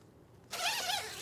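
A YKK zipper on the zip-out panel of a KNOX Roscoe leather motorcycle jacket being unzipped: one steady, close, continuous zipping rasp lasting under a second, following a moment of quiet.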